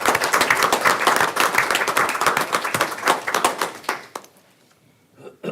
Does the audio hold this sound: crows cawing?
no